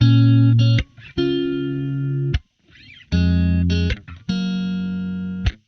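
Distorted electric guitar playing sustained power chords in short bursts with gaps between, double-tracked and panned left and right for a thick, wide stereo sound.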